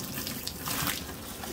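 Boiling hot water poured and splashed over the cooling system hoses of a BMW E46 engine bay, a steady rushing, gushing wash with no voices.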